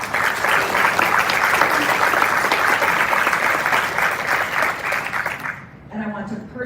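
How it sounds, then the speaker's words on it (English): Audience applause at a press conference: sustained dense clapping from a crowd, steady and fairly loud for several seconds, then cutting off abruptly near the end as a voice begins speaking. "Please give them a round of applause."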